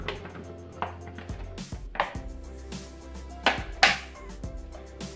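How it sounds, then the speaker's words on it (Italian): Potato pieces drop into a Thermomix bowl in a few dull, knocking thuds at irregular intervals, close and moderately loud over a quiet tonal background. "Mettiamo le patate all'interno del boccale."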